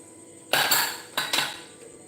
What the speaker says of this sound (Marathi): आता कुकर आपण उघडून बघूया